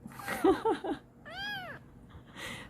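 A young kitten meows in a short rising-and-falling cry, close to the microphone, with a woman's speech before it and a little more talk after.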